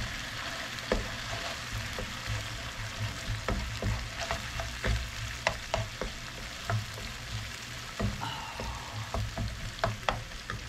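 Onions sizzle steadily in leftover frying oil in a pan, with frequent scraping and clicking stirs breaking through the continuous hiss.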